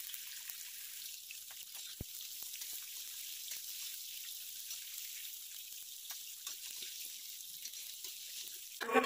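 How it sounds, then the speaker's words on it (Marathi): Bombil fish fry in a little oil on a hot tawa, a faint, steady soft sizzle with scattered small drips and pops, heard close and alone. "या तेलामध्ये हे जे बोंबील आहेत हे असे मस्तपैकी तळून घ्यायचे"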